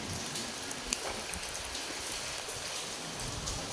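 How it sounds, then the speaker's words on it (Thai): Wind-driven rain lashes a lane in Soi Khao Talo, a continuous close patter and hiss of drops with a soft low rumble of gusts underneath and an occasional sharper splash, no talking. "มาอีกแล้วครับ ทั้งลมทั้งฝน"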